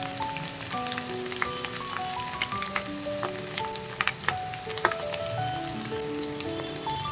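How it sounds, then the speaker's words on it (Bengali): Boiled Wai Wai noodles go into a hot frying pan with carrot, onion and egg, setting off a steady crackling sizzle with scattered pops and soft stirring scrapes. "এবার আমি এর মধ্যে ওয়াই ওয়াই সেদ্ধ করাটা দিয়ে দেব।"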